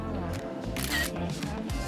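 Camera shutter clicking for a selfie, a couple of short snaps heard over background music and a voice.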